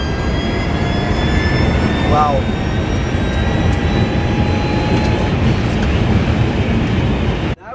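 A Pravaig Extinction Mk1 electric car accelerates hard with a loud, jet-like whine that climbs in pitch over heavy wind and road roar, and a passenger gives a brief exclamation.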